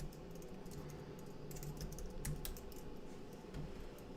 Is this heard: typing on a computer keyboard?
yes